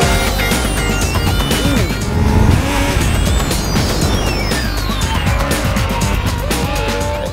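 A motorcycle in the 3,500-euro class pulls hard on a timed lap around a racing circuit, its engine note climbing and falling through the gears, loud and continuous with a gritty, steady roar throughout.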